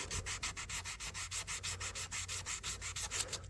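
Sandpaper of 1000 grit rubs rhythmically over a rusted, dented pocket knife, about six quick back-and-forth strokes per second, close and steady with no talking.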